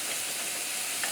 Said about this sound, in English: I'll use a wooden spoon so I don't make noise.